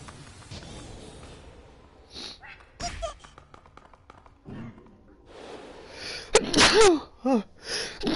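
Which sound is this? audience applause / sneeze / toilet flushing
sneeze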